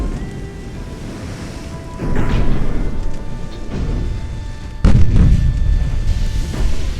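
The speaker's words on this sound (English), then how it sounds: "Torpedo detonation." A torpedo detonation in the naval strategy game Ultimate Admiral Dreadnoughts lands as a sudden heavy boom midway, followed by a rumbling, surf-like wash over a steady low battle ambience with an earlier softer swell.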